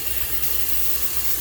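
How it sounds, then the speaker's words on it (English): Water from a hose runs in a steady, moderately loud spray while rinsing a reusable air conditioner filter for a Friedrich unit, with no voices. "It's probably better to do this outside with a water hose."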